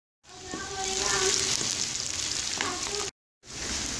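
Onions fry in a pan over high heat with a dense, loud, continuous sizzle. A spoon stirs and scrapes through them, and the sound cuts out briefly near the end before the frying resumes.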